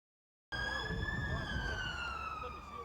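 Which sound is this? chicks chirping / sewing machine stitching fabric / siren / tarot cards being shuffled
siren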